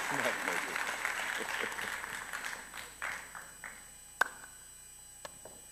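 Audience applause for a woman receiving an award at an evening ceremony, a dense patter of clapping that thins out over several seconds, with a few sharp isolated claps and taps near the end.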